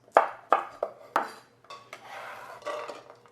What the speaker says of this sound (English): we're just gonna chop these down into slightly a little bit more of a manageable bite-sized piece